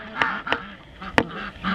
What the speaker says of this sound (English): The ducks were napping, so they're not thrilled with me at the moment.